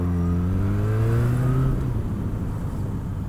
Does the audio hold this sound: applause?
no